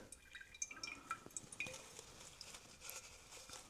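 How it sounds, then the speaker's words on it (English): Irregular drips of water falling into liquid, small bright plinks scattered over a quiet background, close by. "What you hear is a water dripping"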